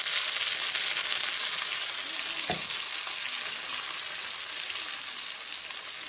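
Masala of green chilli, ginger, cumin and mustard pastes with turmeric, frying in a pan: a continuous, fairly loud close sizzle with one brief knock, no voices.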